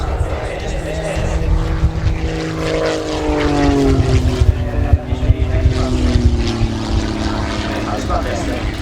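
A Red Bull Air Race plane over Chiba in 2019 drones steadily through a turn, its propeller engine pitch sliding downward, loud and continuous under excited commentary.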